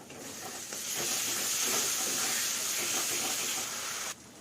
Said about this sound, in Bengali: টক দই দিয়েও মশলাটাকে একটু ভালো করে কষিয়ে নিয়েছি